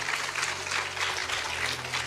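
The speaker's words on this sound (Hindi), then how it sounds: "मैया के लिए ताली तो बनती है" Audience clapping at a live Hindu katha gathering, a steady dense patter of many hands filling the short stretch without any voices.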